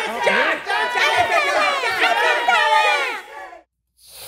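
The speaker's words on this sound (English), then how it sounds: "Start cheering now." A crowd of kids at a live audience show shouts and cheers together in a dense, loud wall of voices that drops out abruptly near the end before picking up again faintly.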